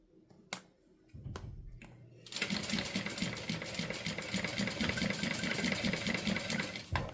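Sewing machine back stitching on fabric during a sew-along: a few faint clicks, then a brief low whir, then a steady loud mechanical run of rapid stitching that continues to the end.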